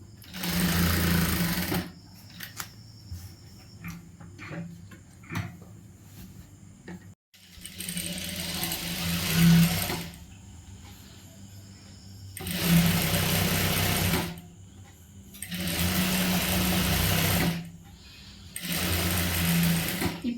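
A tailoring sewing machine stitches a churidar in repeated bursts of a few seconds each, its rapid needle clatter and motor whir starting and stopping with quiet pauses between, close and loud.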